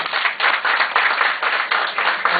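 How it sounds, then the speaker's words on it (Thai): Audience applause for a person named Kraya Boonthiam at an event in Khon Kaen, a steady, dense wash of many hands clapping close and loud, surging in waves through the whole stretch with no talk. "ขอเสียงปรบมือให้กับคุณกระยาบุญเทียมนะครับ"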